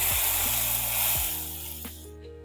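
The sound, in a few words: sizzling tadka of coriander seeds, fenugreek and curry leaves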